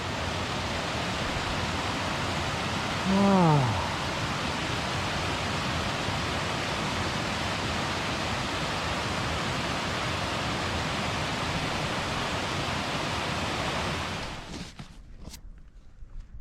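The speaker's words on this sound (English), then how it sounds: "Beautiful little waterfall coming out of Rockslide Lake." Water from a small waterfall pours out of Rockslide Lake on a backcountry trail in Idaho, a loud, steady, broadband rush that holds for most of the clip. A short vocal exclamation breaks in early on, and the rush drops away near the end.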